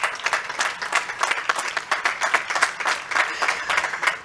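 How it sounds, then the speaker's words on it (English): Graduates applaud at a 2022 college commencement ceremony, a broad wash of many hands clapping that holds steady throughout without a break and with no speech. "You should all give yourselves a huge round of applause"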